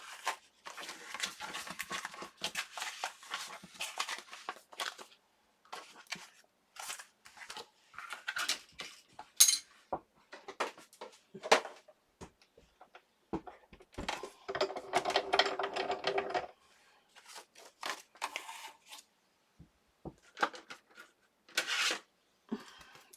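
Paper page for a junk journal being cut out, a string of crisp snips and rustles coming in short bursts with pauses between them, close and fairly loud, no talking.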